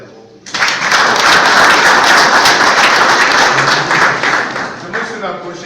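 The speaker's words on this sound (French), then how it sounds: "Applaudissez d'abord pour lui." Loud, sustained applause from a crowd at a Cameroonian women's football certificate ceremony, steady dense clapping for several seconds that begins abruptly and then tapers slightly near the end.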